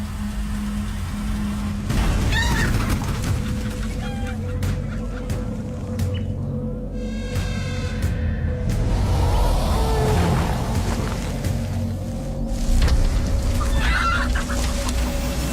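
Chickens clucking, prey for a giant snake, with repeated close clucks and a drawn-out call in the middle over steady background hum, no talk.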